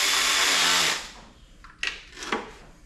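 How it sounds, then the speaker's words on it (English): A 1/4 inch Snap-on electric ratchet whirs loudly for about a second while snugging down a PT Cruiser valve cover, then stops, followed by a few sharp metallic clicks and handling knocks. "I'm using a 1/4 inch snap-on electric ratchet, so it's just snug"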